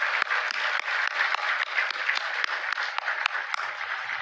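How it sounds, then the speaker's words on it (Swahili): An audience at a Kenyan presidential speech event claps together, a steady crackle of many hands with a few sharper nearby claps standing out, continuous throughout. "Tuwapigie makofi jameni"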